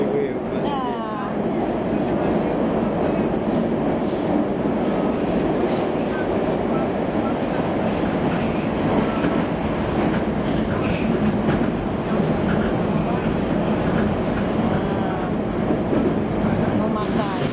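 Moscow metro train rumbling and swaying through a tunnel on an underground line, a steady loud roar with rhythmic wheel clatter and faint squeals throughout, with people talking quietly beneath the noise.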